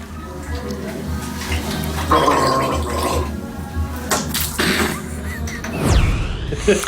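Water gargled in the throat in a bathroom, a bubbling, irregular burble of a few seconds followed by splashing and spitting sounds, close and fairly loud.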